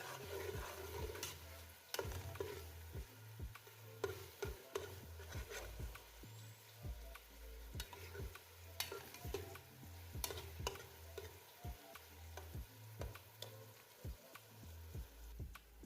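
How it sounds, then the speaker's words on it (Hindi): Chopped onions fry in a pan for kadhi pakora, a steady low sizzle broken by frequent scraping stir strokes in an irregular rhythm, close and moderately quiet, with no talking. "प्याज चॉप करके या बारीक काट के आपने शामिल कर लेने और इसका कलर चेंज होने तक आपने फ्राई करना है"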